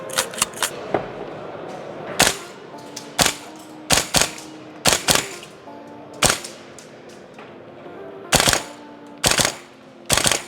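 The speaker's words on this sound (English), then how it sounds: "So now we're gonna go to the range and test it out. Mag dump." A training gun is fired in rapid, sharp bursts at an indoor range, loud cracking shots coming in quick clusters with short gaps between them.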